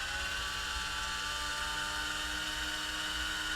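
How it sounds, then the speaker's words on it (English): A small drill bit whirs at a high, steady pitch boring into a lever on a Sony turntable, running continuously and fairly quietly without a break. "This is the smallest drill bit I've got."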